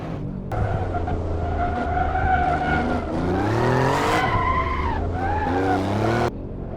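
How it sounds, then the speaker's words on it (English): A turbocharged six-cylinder car slides out on a winding mountain road. Loud, continuous tire squeal rises and falls in pitch over a droning engine for about six seconds, close up and with no talking. "the car still wants to slide out"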